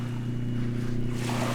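A Whaly 370 small boat motors across Jordan Lake, a steady low engine drone with harmonic hum held throughout, with wind and water noise rising toward the end.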